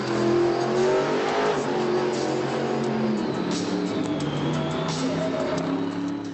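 Modified monster truck engines rev at a stadium show in Madrid's Vicente Calderon Stadium, a loud, continuous roar with rising and falling engine pitch that fills the whole stretch without pause.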